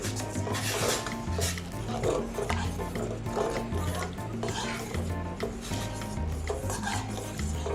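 A spoon stirs salt into water inside a metal pot, a continuous rasping, swirling sound with light clinks, close and steady.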